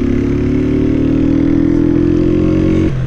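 Engine revving through a Fortuna estralador exhaust, a loud, close, steady deep drone held for about three seconds before dropping in pitch at the end.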